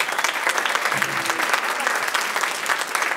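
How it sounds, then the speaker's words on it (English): Audience applause for a fourth grade band at a school winter band concert, a full, steady wash of many hands clapping throughout, with a faint voice briefly underneath. "we'll give them another round of applause"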